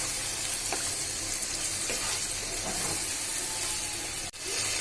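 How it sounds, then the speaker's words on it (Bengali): Beef liver sizzles steadily in a pan while being stirred, a constant close frying hiss with faint scraping and no talk. "সবগুলো কলিজা দিয়ে কিছুক্ষণ নাড়াবো।"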